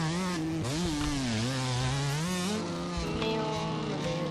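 A motorcycle engine in a video game revs and whines continuously, its pitch sliding up and down as it accelerates, loud and close throughout.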